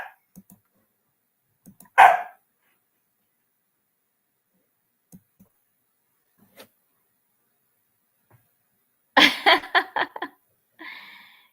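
A pet dog barks in a few sparse, separate yips, then a quick burst of several close barks, with long quiet gaps in a room and a brief laugh near the end.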